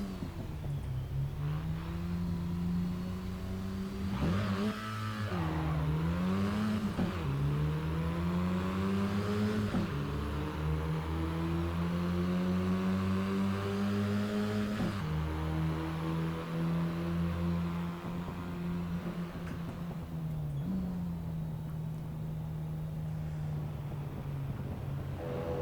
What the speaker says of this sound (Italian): Accendiamo la macchina.